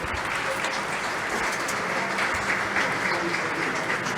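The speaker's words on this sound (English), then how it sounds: "Give yourselves a round of applause" Audience applause at an international regenerative agriculture forum: a dense, steady wash of many hands clapping, sustained evenly and fairly close.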